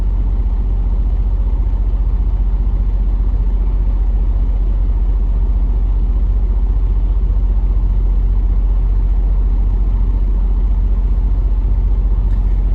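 A vehicle sits in stalled traffic while its engine rumbles deep and steady from inside the cab. The sound stays constant, loud and unbroken throughout, with no talking.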